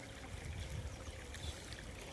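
Irrigation water from two pump motors flows and gurgles steadily in a field channel, a faint, continuous trickling rush.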